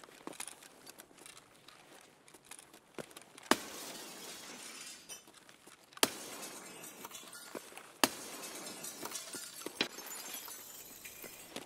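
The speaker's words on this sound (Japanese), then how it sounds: "もうあんだけガラスあったら割りたくなんだろ" Glass panes shatter repeatedly in Escape from Tarkov, several loud, sharp breaks spaced a few seconds apart, with tinkling shards and gunfire-like cracks amid steady background noise.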